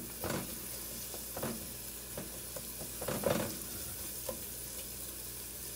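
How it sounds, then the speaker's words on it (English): Onions sizzle softly in a pan while a rubber spatula stirs them, adding a few scraping, shuffling strokes at irregular intervals over a quiet, steady fry. "I love the aroma of frying onions."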